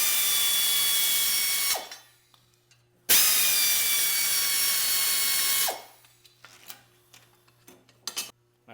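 Power tool or impact driver spinning bolts off the AC pump bracket of a 1994 Saturn, two long loud whirring bursts with descending pitch at the end, then quieter ratchet clicks and metallic taps.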